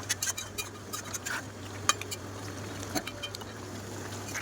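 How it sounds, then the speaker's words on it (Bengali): Potatoes and kasuri methi stir-fried in a pan, with light scraping and clinks of a metal spoon against the pan over a steady low hum, intermittent and moderately quiet. "তারপর আলুগুলো দিয়ে দেবো, দিয়ে ভালো করে কষাতে থাকবো।"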